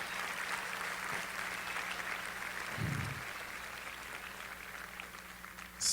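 Sustained audience applause in a hall on an election night, steady and moderately distant, continuing evenly with a low hum underneath.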